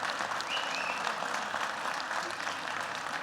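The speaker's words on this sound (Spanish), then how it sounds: "para quien pido un aplauso por su asistencia." Applause at a weekly assembly meeting rises as a steady, even patter of many hands clapping, moderately loud and continuous, with faint murmurs and a few background voices mixed in.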